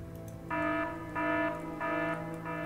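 An alarm in the video game Evil Genius repeats four steady, buzzing electronic tones at an even pace over a low background hum.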